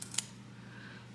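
Scissors snip an old houseplant petiole, giving a couple of quick, crisp metallic clicks near the start, close and fairly faint, followed by quiet room tone.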